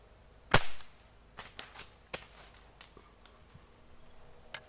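A single sharp gunshot rings out while hunting squirrels among rubber and oil palm trees, followed by faint scattered clicks and rustles over quiet outdoor ambience.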